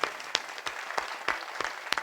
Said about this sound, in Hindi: एक बार पूरा सदन मुझे ताली बजा करके आदेशित करें